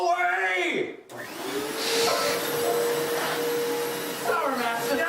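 A vacuum cleaner drones steadily at close range for several seconds, loud and unbroken, with voices speaking over it at the start and near the end.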